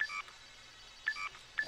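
Short electronic beeping notification tones, a message alert from Homefront: The Revolution, sound in three quick clusters, quiet and clear with no talk.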